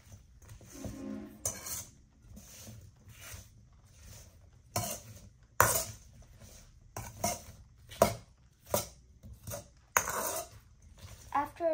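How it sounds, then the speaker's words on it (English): A spoon stirs cucumbers and a spoonful of salt in a mixing bowl, giving repeated irregular clinks and scrapes against the bowl, some sharp and close, spread across the whole stretch. "We're gonna add 1 spoonful of salt. And now we mix it up."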